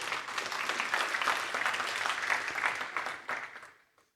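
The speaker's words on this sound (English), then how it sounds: "I'd like you to just give them a round of applause for their support" A conference audience claps in a steady round of applause for a sponsor, moderately loud and sustained for several seconds before tapering off to silence.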